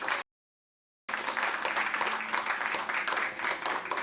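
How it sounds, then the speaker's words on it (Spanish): Church congregation applauding during a Spanish-language sermon, broad mixed clapping that starts after a brief silent gap and continues steadily, moderately loud with some murmured voices. "¿Cuánto puede darle un aplauso al Señor por eso?"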